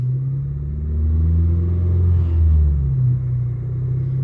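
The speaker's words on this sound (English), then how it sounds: "It really feels like just the exhaust note." A turbocharged Honda Civic idles and is briefly held at a slightly higher speed, a loud, deep, steady exhaust rumble that swells in the middle before settling back, heard up close from inside the car with no talking.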